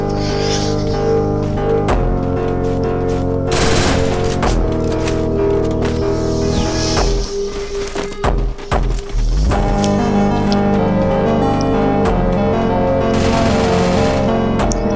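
Rapid bursts of gunfire in a Counter-Strike match crackle over a continuous electronic backdrop, with repeated sharp shots and short pauses between volleys.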